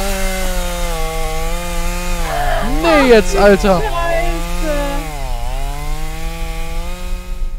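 Chainsaw in the video game Escape The Backrooms, a loud steady droning engine whine that rises and falls in pitch, running under excited talk from a player.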